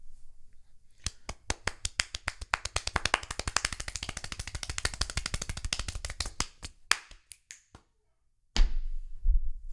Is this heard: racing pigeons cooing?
no